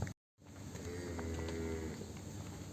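A pregnant Holstein Friesian heifer moos on a dairy farm, one long, loud, drawn-out low call held for well over a second at close range, with farmyard background noise around it.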